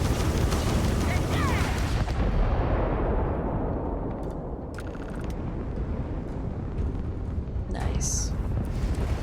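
A spaceship in Starfield fires missiles amid dense, roaring explosive rumble that stays loud and continuous, with sharper bursts and whooshes in the midst of combat; a voice speaks over part of it.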